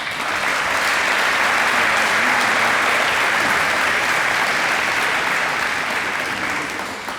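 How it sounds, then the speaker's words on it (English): Sustained applause from the audience at a Prairie High School ceremony honoring two NBA players, a dense, loud wash of clapping that swells, holds steady for several seconds and then begins to taper. "just a round of applause for Rocky and Rick."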